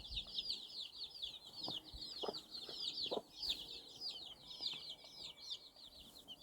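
Constant high, rapid peeping of bantam chicks, with a few low clucks from a hen guarding them scattered through, fairly faint and continuous.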